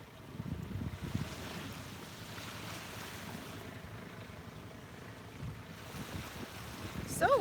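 Wind and surf wash over a beach in a soft, steady rush with gentle swells of waves and gusts buffeting the microphone, faint and continuous, with a brief sharper sound at the very end.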